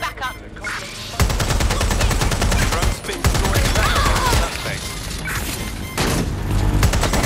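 Rapid bursts of gunfire in Watch Dogs Legion crackle loudly and almost continuously, broken by short gaps and crashing impacts, with occasional speech mixed in.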